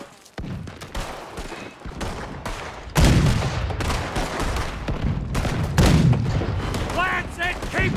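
Rapid bursts of gunfire and heavy cannon booms from a boat battle in Red Dead Redemption 2, dense and loud, with shouted voices mixed in.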